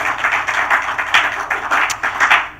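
Audience at a sub-Saharan African university innovation showcase clapping: a short burst of fairly close, uneven handclaps from a modest group, with no talk over it.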